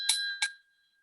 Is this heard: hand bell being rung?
yes